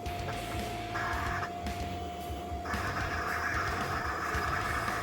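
A Roland BN20 print/cut machine whirs steadily as it cuts, with its head swiveling up and down in short mechanical bursts, close and moderately loud with no talking.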